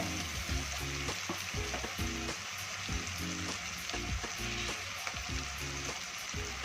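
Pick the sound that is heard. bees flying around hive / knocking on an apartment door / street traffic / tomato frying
tomato frying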